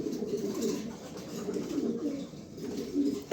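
A grizzle male pigeon coos in low, continuous murmuring phrases, close by and alone, with a steady soft rumble throughout.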